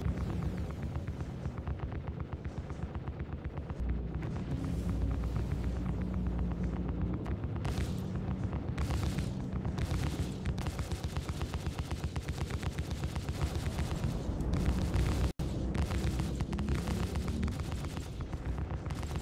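Turret gunfire from an AI-crewed Carrack aimed at a Caterpillar ship in Star Citizen: a dense, continuous roar of rapid shots with booming low rumble and heavy rolling blasts, loud and unbroken throughout, with no speech.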